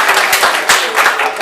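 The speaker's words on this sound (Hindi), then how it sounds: "इस पर ताली बजाइए।" An audience at a voter-training camp in Rishikesh claps in a short, dense burst of applause, loud and close, with voices mixed in.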